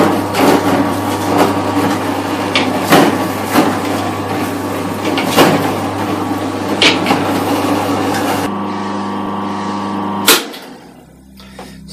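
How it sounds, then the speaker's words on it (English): An electric juicer runs on freshly cut apples, a steady motor hum with rough grinding and knocking bursts. It changes pitch near the end, then cuts off into near silence. "I'm just going to switch the juicer on and juicing."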